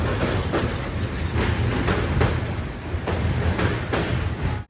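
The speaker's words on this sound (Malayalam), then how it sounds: "ട്രെയിൻ ഇതാ സകലേശ്പൂർ റെയിൽവേ സ്റ്റേഷനിലേക്ക് എത്തുകയാണ്" Gomteshwara Express rolling into Sakleshpur railway station on the Bengaluru–Mangaluru line, heard as a steady close rumble with regular clickety-clack wheel beats, no voices.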